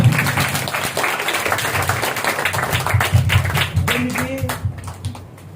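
A church congregation at a Sunday worship service in Nellore claps hands in praise, steady rhythmic clapping throughout with a preacher's voice speaking over it.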